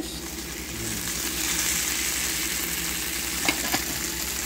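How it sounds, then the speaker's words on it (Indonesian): Eggplant sizzles as it fries in a pan for balado terong, a steady broadband hiss with a couple of sharp clinks near the end as it is stirred. "Sekarang masukin terong."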